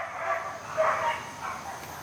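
Several dogs bark outdoors at a distance, a blurred, continuous chorus of muffled barks rising and falling over steady background noise.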